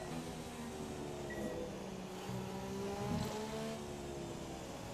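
A Formula 1 race car engine in the F1 2017 video game, heading into the pits at Australia, hums steadily with a faint tonal whine, fairly quiet and continuous.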